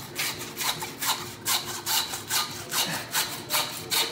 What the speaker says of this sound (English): Now that you found it, you can saw through.